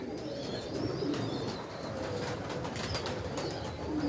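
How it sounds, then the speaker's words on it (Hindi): Pigeons flock in to drink from water just set out beside trees, a steady chorus of soft coos and flapping wings close by over constant outdoor background noise. "ये देखें पानी रख दिया, सारे कबूतर पानी को आ गए"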